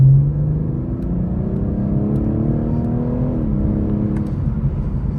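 A 2024 BMW 840i M Sport accelerates hard from the driver's seat, its engine a loud, steady drone whose pitch climbs smoothly, dips briefly at a gear change, then keeps rising, with no voices over it.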